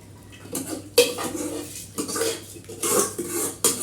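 Washed rice tipped into a cooking pot on a stove for sweet jaggery rice, with several loud clattering, scraping knocks of metal utensils against the pot in close, uneven bursts, no talking.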